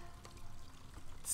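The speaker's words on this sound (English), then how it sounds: "Spat out some water." A flower in the video game Gris spits out a short splash of water, a brief pouring, trickling gush at moderate level that ends in a bright hissing spray.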